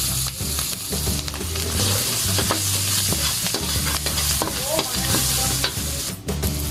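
Garlic frying in a spoonful of margarine in a pan. A steady, loud sizzle is broken by the scrape and clatter of stirring utensils, with no talking.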